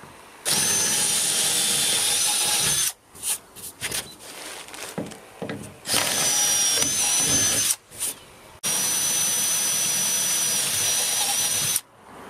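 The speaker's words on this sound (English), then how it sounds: "I drill them out too." A power drill whines loudly in long steady bursts, drilling out handrail fixing points, stopping and starting several times with brief pauses between runs.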